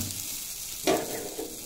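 Patishapta batter, scented with lemon leaf, hits an oiled hot tawa with a sudden hiss, after which a steady sizzle settles in and a second softer splash follows. The frying is close and quiet, and no one speaks.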